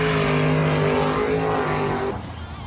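Engine of a 1988 IROC Z Camaro roars loud and steady, a dense rumbling drone held close by that drops off sharply near the end.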